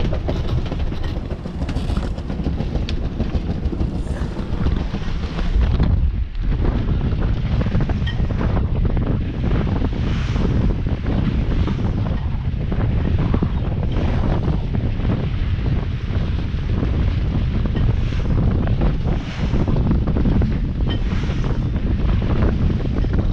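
Strong, squally wind at sea buffets a small sailboat during a solo voyage, giving a loud, constant roar of gusts and wind noise mixed with rushing water, with no talking.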